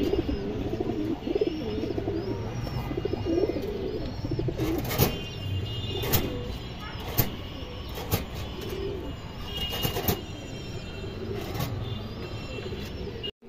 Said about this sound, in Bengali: আরেকটা খুব সুন্দর মাদি কবুতর আছে দর্শক